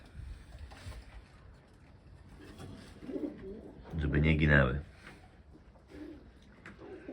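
A pigeon's low, throaty coo rises near the middle, close by, with a few words spoken softly before and after.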